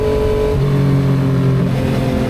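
A Yamaha XSR900 motorcycle engine revs hard during wheelie practice, loud and close, its pitch climbing and shifting as the throttle opens, running steadily through the whole stretch with no talk.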